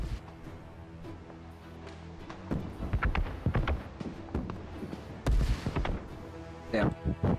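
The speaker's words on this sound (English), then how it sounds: "Got a cannon on them." Cannon fire in the New World game during a siege war, heard as several sharp booming shots in quick succession over background music and battle noise, with players talking.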